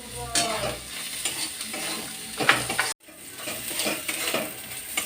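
Chopped green chilies go into a frying pan for a Bengali prawn cutlet filling and are stirred, giving steady sizzling with scraping and clinking of a utensil against the pan, briefly cut off midway.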